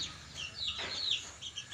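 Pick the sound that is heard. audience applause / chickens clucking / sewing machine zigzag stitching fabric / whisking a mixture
chickens clucking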